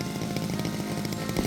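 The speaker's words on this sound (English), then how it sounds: "we'll switch to our chainsaw again" A chainsaw buzzes steadily while cutting a log for a small mountain log cabin, a rough, busy engine snarl held at a fairly constant pitch for a brief moment with no talk.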